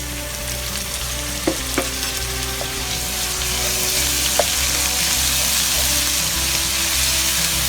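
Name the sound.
garlic ginger paste frying in pan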